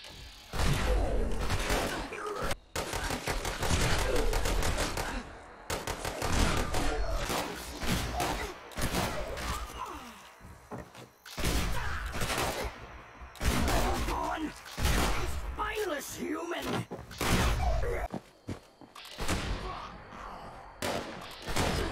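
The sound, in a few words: Gauss shotgun firing in video game Fallout 76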